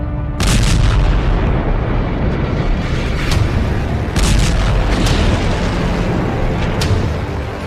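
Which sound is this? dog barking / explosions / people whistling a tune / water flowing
explosions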